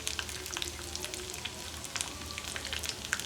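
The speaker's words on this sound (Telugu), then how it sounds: "ఇంగువ వేస్తున్నాం." Asafoetida hits hot oil for pulihora, giving a steady, faint sizzle with fine crackling pops throughout and no voices.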